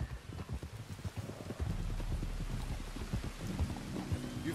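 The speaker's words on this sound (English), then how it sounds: "There's rain on the wind." Steady rain in Red Dead Redemption 2 patters in a continuous hiss with a low rumble underneath, dense and even throughout.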